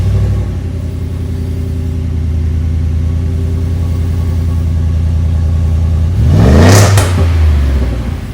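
A 2022 Ford F-150 with a 5.0 V8 runs with no muffler, giving a loud, deep, steady exhaust drone close by. Near the end it revs sharply once, then settles back.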